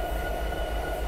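A train rolls steadily in Train Simulator 2018, a continuous low rumble of wheels and engine with a faint high whine on top, even and unbroken with no talk over it.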